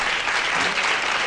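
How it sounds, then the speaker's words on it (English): A studio audience claps steadily, a dense, loud wash of applause filling the whole short stretch without pause. "every single female in this audience is clapping"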